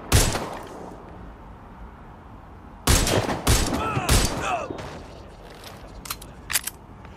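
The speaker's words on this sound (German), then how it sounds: "Es fallen Schüsse!" Gunfire from the video game Watch Dogs: Legion: a sharp opening burst, then a quieter stretch, then a cluster of loud rapid shots with ricochet-like whines, followed by scattered single cracks.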